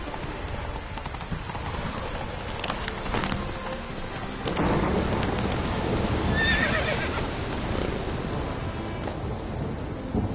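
Roach the horse in a video game gallops with rapid clip-clop hoofbeats, then gives a loud whinny, while rain and rumbling thunder carry on in the background.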